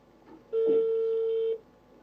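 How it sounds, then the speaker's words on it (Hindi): A single steady telephone keypad or dialing tone on a phone line sounds for about one second, loud and clean, with faint room noise before and after. "आपके एक फ्रेंड को हम टेलीफोन लाइन पर लिए हुए हैं"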